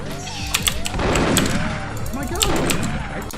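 Magnum revolver shots in the Perfect Dark video game, a few sharp reports spaced out over busy game sounds, swooshing effects and background music.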